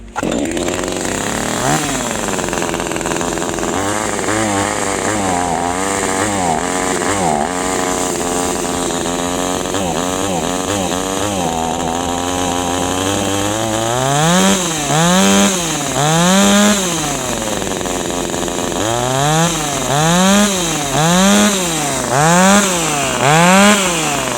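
A Vitals one-handed chainsaw engine runs steadily, low on fuel, then revs up and down repeatedly in surging bursts, loud and close, with no speech.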